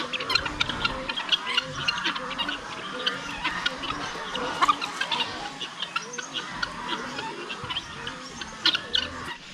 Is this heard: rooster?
yes